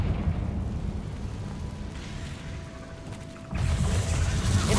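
Confringo blasting spell from the game Hogwarts Legacy, a heavy rumbling explosion with crackling mechanical debris that eases off, then a second loud blast bursts in near the end.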